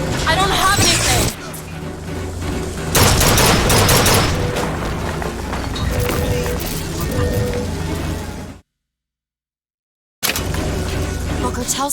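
Rockets and gunfire in the video game Bioshock Infinite: dense bursts of shots and booming blasts fill most of the stretch, cut by a brief silent gap before the din resumes.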